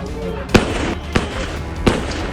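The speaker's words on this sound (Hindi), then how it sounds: "फिर राइफल से निशाना बनाकर उसने फायरिंग शुरू कर दी।" Rifle shots fired from a rooftop during a street clash: three sharp reports evenly spaced about half a second apart, cutting through a loud, constant background of crowd and street noise.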